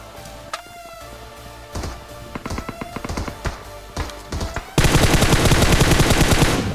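An enemy in a mobile battle royale game fires wildly, producing bursts of rapid gunshots that grow denser, ending in a loud, sustained stream of automatic fire.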